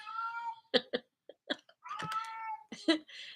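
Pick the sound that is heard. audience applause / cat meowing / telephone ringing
cat meowing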